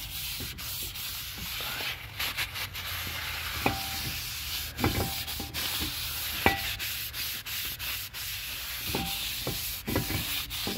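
Steady close scrubbing and wiping on the outer braking surface of a new rear brake disc on a 2012 Ford Mustang, a continuous rough rubbing broken by small clicks and taps.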